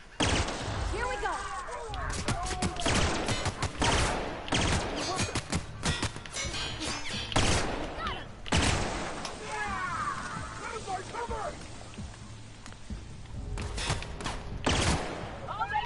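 Gunfire from a gun in a video game: repeated loud, close bursts of shots with impacts and effects, mixed with game sounds and occasional speech.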